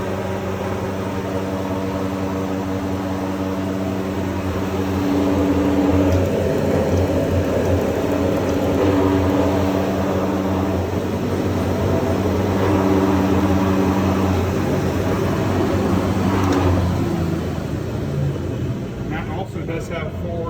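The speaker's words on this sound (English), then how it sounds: "And then for the main 5 horsepower Moulder motor, that's going to be right here." A 5 horsepower main motor on a Mikron TM645 multi moulder, an arch moulding machine, hums steadily and loud with a low tonal drone that swells slightly after a few seconds and then holds.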